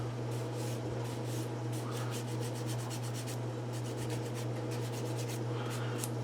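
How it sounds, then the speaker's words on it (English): Soft repeated rubbing strokes of sandpaper smoothing a nub on a plastic model kit part for a Tiger 1 tank, faint and close, with a steady background hum. "a little sanding right there."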